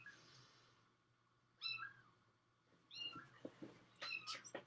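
A kitten crying from another room, with several short, distant mewing calls spaced apart over a faint background hum, growing a little busier toward the end.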